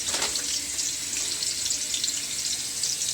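Water at a rolling boil in a pot as pieces of gram-flour (besan) dough are dropped in, giving a steady close hiss and bubbling with no voices.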